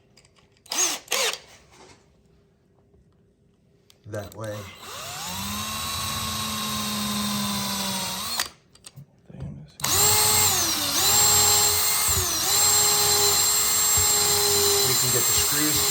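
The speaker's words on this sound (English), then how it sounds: "now going to pre-drill the ring" A power drill whines in sustained bursts while pre-drilling a 10-inch mid bass speaker ring, spinning up and holding pitch, with brief pauses and a few spoken words between runs.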